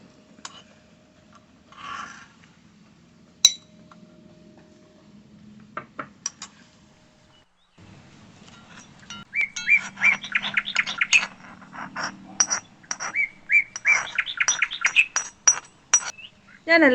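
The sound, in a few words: curry being transferred from pot into a serving dish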